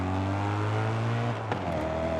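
In Forza Horizon 5, a BMW M3 GTR race car accelerates hard down a drag strip, its loud engine roaring steadily and climbing in pitch, then briefly dropping at a gear change before pulling again.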